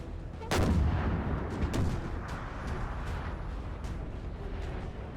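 Artillery cannons fire in the Napoleonic battle game Napoleon Total War: two heavy booming blasts close together, then a distant rumble of scattered gunfire trailing off.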